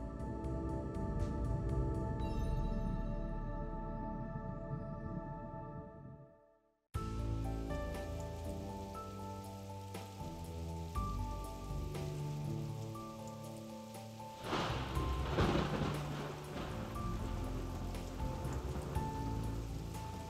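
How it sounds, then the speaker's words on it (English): Steady autumn downpour hissing across forest and stream surfaces, a dense continuous wash of rain with rising and falling intensity, with no voices. "The autumn rains have arrived, and with them, no guarantee they'll ever end."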